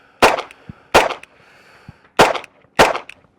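Four loud, close live-fire pistol shots at a shooting range, in two pairs with brief gaps between, each a sharp crack with a short echo tail, faint clinks between shots.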